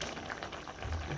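A potato, eggplant and tomato curry with rohu fish bubbles in the pot. It makes a faint, steady simmering burble with soft popping throughout.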